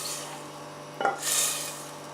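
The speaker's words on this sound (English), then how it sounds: "Put that there while we fry off the vegetables." Vegetables for beef stew sizzle in a pan, a soft steady hiss with a brief scrape and clatter of a utensil stirring partway through.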